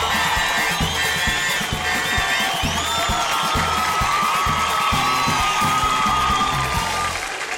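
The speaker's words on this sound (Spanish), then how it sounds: "Un aplauso para Pacho." A crowd at a football event applauds and cheers for a player, steady dense clapping with whoops and shouts throughout, loud and sustained with a few voices rising above.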